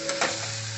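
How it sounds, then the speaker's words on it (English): Quartered mushrooms fry in butter and garlic, giving a steady close sizzle with a couple of brief stir bursts in under a second, no voices. "as the mushrooms are frying up here"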